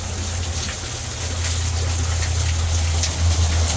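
Steady rushing flow of a low-running waterfall in Michigan's Upper Peninsula during a dry fall, a continuous hiss and low rumble that swells slightly near the end.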